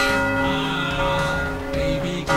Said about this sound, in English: I put a ringing bell in the background to express that ringing.